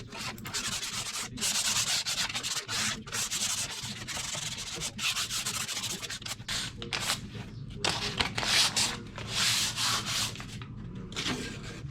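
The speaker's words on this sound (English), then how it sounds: "after the first coat, I gave it a real quick sand, yet again with 400 grit sandpaper just to rough it up or smooth out some of the high edges" A painted garage cabinet surface is hand-sanded between coats with 400 grit sandpaper, giving close, brisk back-and-forth rubbing strokes in an uneven rhythm with short pauses.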